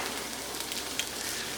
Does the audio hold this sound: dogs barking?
no